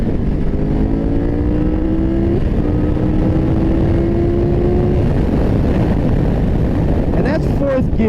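A 2023 Triumph Tiger 1200 GT motorcycle is ridden with steady, loud engine and wind roar, its rising engine tone stepping down at a gear shift and climbing again.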